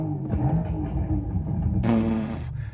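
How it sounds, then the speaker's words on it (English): An electric Mercedes-AMG GT sports car's drive system hums and churns steadily, then surges in a loud, bright simulated rev for about half a second before settling back to its low drone. "then I can also rev it up here, like here"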